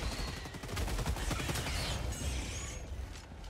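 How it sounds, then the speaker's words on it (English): LAS-16 Sickle laser rifle fired in Helldivers 2 against hunters: a dense, fast stream of rapid shots rattles continuously for a few seconds, fairly loud and up front, with no talk. "use the assault rifle here a little bit. Look how good this is at clearing hunters"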